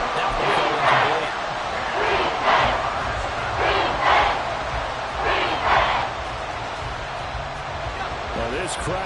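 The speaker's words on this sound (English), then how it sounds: "this crowd is making an impact right now" A stadium crowd in an American football video game roars steadily, swelling in waves beneath continuous play-by-play commentary.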